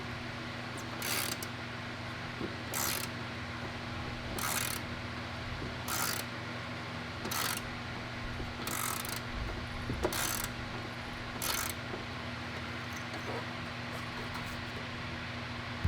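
A ratchet backs out a 10 mm fender bolt on a Hellcat, giving about nine short bursts of rapid clicking at a steady pace. Each burst stands clearly above a constant low hum, and no voices are heard.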